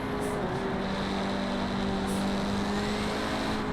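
A car engine hums steadily while driving in Forza Horizon 4, a continuous low drone with sustained tonal whine, fairly loud and even throughout with no speech.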